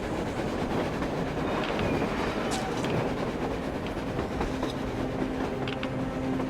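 A train in the video game Metro Exodus rumbles steadily past with a dense, continuous roar, faint rhythmic clatter and a few metallic squeals over the top.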